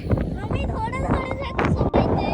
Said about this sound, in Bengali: কোনো কথা শুনতে পাচ্ছি না কিচ্ছু শোনা যাচ্ছে না এত হাওয়া